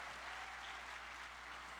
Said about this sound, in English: Give a round of applause once again for Panji Pragiwaksono